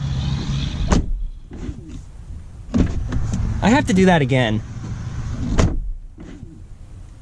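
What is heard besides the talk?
2019 Audi Q8 car door being shut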